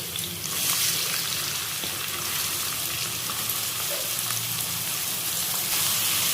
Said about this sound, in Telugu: ఇప్పుడు ఆనియన్ వేసుకుందాం